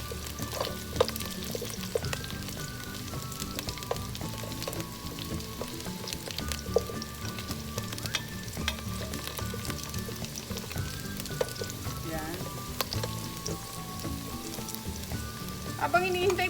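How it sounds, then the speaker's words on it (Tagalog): Chicken pieces pan-fry in oil with a constant soft sizzle and crackle. Quiet background music plays underneath. "Pa-pan fry lang po natin sila ng konti."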